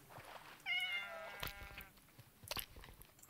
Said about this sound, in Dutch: Kom hier, kat!